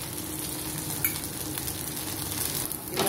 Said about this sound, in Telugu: ఇదిగోండి ఈ విధంగా దోశ కాలుతుంది